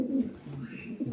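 A racing homing pigeon gives a short, soft coo, low and close, just over a second long with faint background noise.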